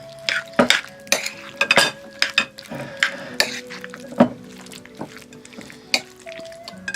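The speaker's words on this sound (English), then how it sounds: "And we'll mix as we go." A spoon repeatedly knocks and scrapes in a bowl while ricotta-based pizza rustica filling is mixed, making irregular clinks and clacks close up with no talking.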